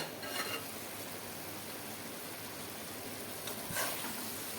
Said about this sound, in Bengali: আবারও একটু ঢাকনা সরাইয়া আবারও একটু নেড়ে চেড়ে নিচ্ছি